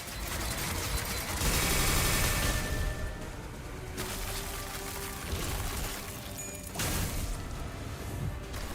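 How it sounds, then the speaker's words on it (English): An artillery barrage attack in the video game Limbus Company lands as a dense, loud volley of rapid explosive blasts and crashing impacts, coming in several heavy waves over a few seconds. "Fire artillery barrage."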